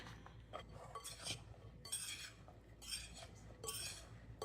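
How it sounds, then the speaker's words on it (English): Ridge gourd pieces stirred with seasoning in a bowl, a utensil scraping and clinking against the bowl in short repeated bursts, moderately close and fairly quiet, with no talking. "So I'm just gonna stir it all up and then toss all of these in there."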